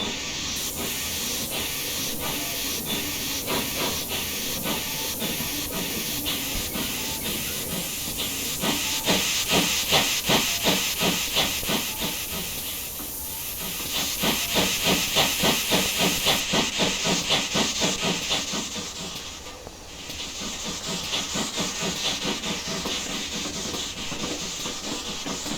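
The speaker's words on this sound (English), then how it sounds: "Some really good sounding chuff sounds." A GWR Small Prairie 2-6-2T steam locomotive in Train Simulator Classic chuffs steadily with a rapid, even exhaust beat over a constant hiss of steam. The loudness swells and eases a few times, with no voices.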